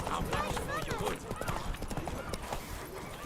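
Horse hooves clip-clop briskly over a short stretch of The Witcher 3: Blood and Wine gameplay, close and steady, mixed with speech and game sound.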